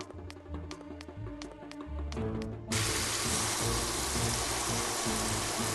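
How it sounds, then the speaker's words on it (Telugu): Game music plays in short tonal pulses, then a sudden steady rush of leaking water takes over in a puzzle video game about saving a girl, continuing evenly to the end. "ఇక్కడ వాటర్ మళ్ళీ లీక్ అవుతున్నాయి"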